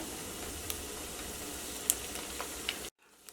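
Rava semolina rolls sizzle steadily in hot frying oil, a continuous close crackle dotted with a few brief pops, then it cuts off abruptly near the end.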